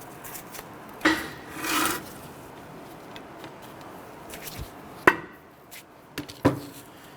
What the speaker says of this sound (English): we're going to go ahead and just tap that. And we want to go ahead and tap it and rotate if you can.